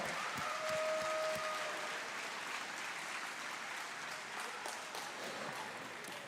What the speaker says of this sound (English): Let's get a big round of applause.